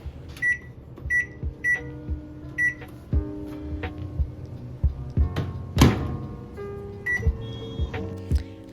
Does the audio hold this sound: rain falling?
no